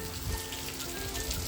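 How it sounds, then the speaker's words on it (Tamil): Heavy rain falls steadily in a broad, even hiss with dense drop patter on surfaces, constant and close for the whole stretch with no voices. "பாருங்க ஃப்ரெண்ட்ஸ், நல்லா மழை பெய்யுது."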